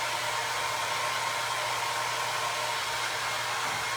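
A hair dryer blowing on a vintage wooden Christmas tree, a constant loud whooshing roar of air with a low motor hum underneath, unbroken and close throughout.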